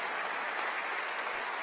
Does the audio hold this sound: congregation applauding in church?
yes